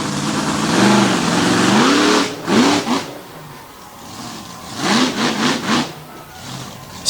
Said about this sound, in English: That big sassy racing 540 Hemi in the back, getting him up and over the cars.